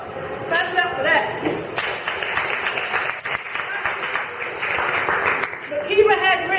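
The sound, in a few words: audience applause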